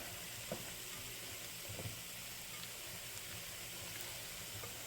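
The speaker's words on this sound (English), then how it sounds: "So now we're going to stir all that together." A Philly cheesesteak casserole mixture with mayonnaise is stirred in a dish, giving a faint, continuous soft scraping and squelching close by, with a few light knocks and no talking.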